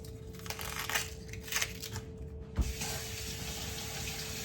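Running tap water splashes over an onion held beneath the faucet, a steady close hiss with brief louder gushes, then a clunk as the flow changes, in a home kitchen during paksiw cooking.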